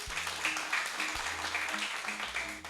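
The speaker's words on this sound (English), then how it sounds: "Round of applause." An audience at a talk about legal and investment strategies applauds, a steady, moderately loud stretch of clapping throughout with music quietly underneath.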